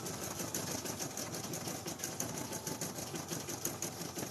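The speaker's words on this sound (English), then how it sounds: "We are stitching out new Feltie designs today" An embroidery machine stitches out felt Feltie designs with a fast, even, continuous mechanical whir and patter. It sounds fairly faint and steady throughout, with no talking.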